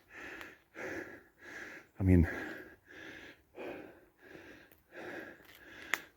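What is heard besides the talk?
heavy breathing after a climb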